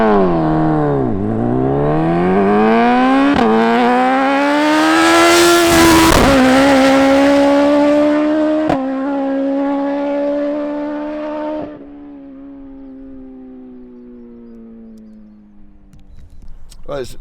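Modified 370hp turbocharged Suzuki Hayabusa superbike accelerating hard on wet roads, a loud close engine howl climbing through the gears with sharp shifts before easing off, under talk.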